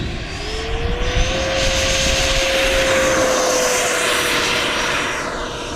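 A 105mm 12s electric ducted fan RC jet, an AEROFOAM Diamond, takes off with a loud, rising turbine-like whine and rushing air that holds steady and close before easing slightly.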